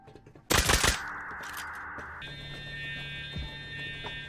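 A nail gun in the survival game Rust fires in a sudden loud rattling burst, followed by a sustained electronic hum and a faint thump later on.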